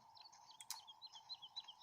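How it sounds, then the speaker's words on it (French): Small birds chirp quietly in the Farming Simulator 17 game world, a few soft, quick tweets repeating in a light, irregular pattern with no voices. "Ah, il y a des petits oiseaux."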